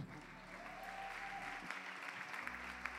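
An audience applauds at a church leaders' graduation ceremony, a steady wash of many hands clapping at moderate distance that carries through the whole clip without breaks.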